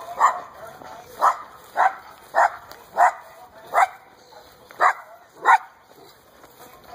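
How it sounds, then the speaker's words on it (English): A dog barks about eight times in a steady, evenly spaced series of sharp, mid-pitched barks, close by in an otherwise quiet setting. "My dog's barking at it."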